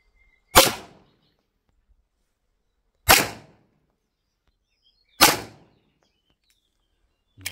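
A 1911 pistol fired at a target during slow aimed practice: three sharp, loud reports spaced a couple of seconds apart, each followed by a short decaying ring, with near silence between and a fourth shot starting at the very end.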